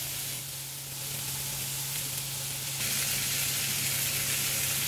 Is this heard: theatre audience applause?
no